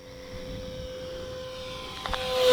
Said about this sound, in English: So here, full throttle down the runway.